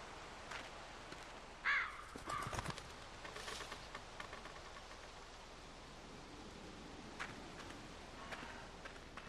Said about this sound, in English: Oh, dude. Kill that bird.